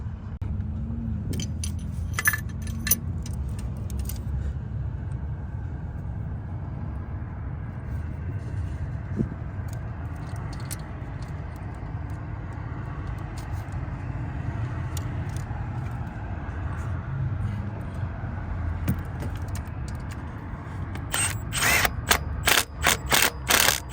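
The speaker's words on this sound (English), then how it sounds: "Get this rocker tightened down." Ratcheting and mechanical clicks from tightening a rocker arm bolt on an LS engine during a roadside repair, steady clatter over low background rumble, with a burst of sharp close clicks near the end.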